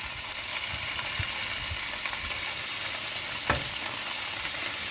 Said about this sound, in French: vous mettez une poêle à chauffer avec de l'huile. Vous allez mettre les morceaux de tataki.